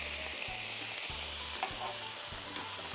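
Vinegar hitting a hot frying pan gives a loud, steady, broadband sizzle that fills the whole moment, with a low periodic hum underneath and no voices.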